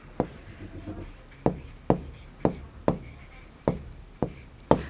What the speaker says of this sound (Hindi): तो हम यहां लिखेंगे 28 जुलाई।